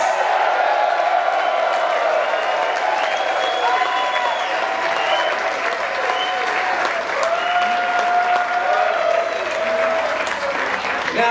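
Audience at a live music show applauding, a steady wash of clapping with some cheering throughout, loud and sustained.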